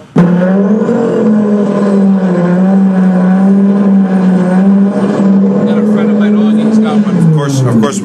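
A Mitsubishi Evo engine, about 500 wheel horsepower, runs close by at a steady, loud rumble, settling slightly toward the end.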